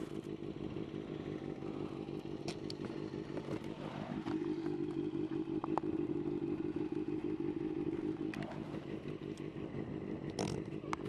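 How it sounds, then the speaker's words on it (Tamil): Benelli TNT 600i motorcycle with its engine running, a close low idle burble that swells into a throatier rev around the middle and settles back, with occasional clicks and knocks. "அதோட எக்ஸாஸ்ட பாருங்க, நல்லா இருக்கா?"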